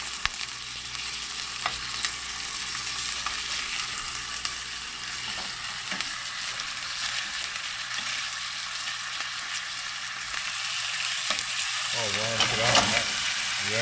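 Gardein beefless sliders sizzling in a frying pan, a steady close crackle and hiss that grows slightly louder toward the end.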